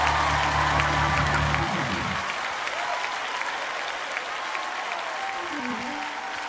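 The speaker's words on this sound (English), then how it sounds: "Come on, clap your hands." A church congregation claps and cheers in sustained loud applause, a broad wash of many hands; a low sustained tone fades out in the first two seconds while the clapping continues steadily.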